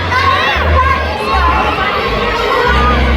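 Children on a SeaWorld wildlife tour in San Antonio, Texas scream loudly together on cue, a dense continuous crowd of shrill young voices filling the space.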